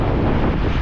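Strong wind buffets the microphone in a loud, steady roar of low rumble and broadband noise, with no voices.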